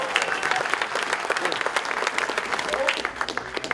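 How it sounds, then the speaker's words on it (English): Sustained applause from an audience honoring football team captains, a dense steady clatter of many hands, loud and continuous with crowd noise throughout. "one more big round of applause for these guys"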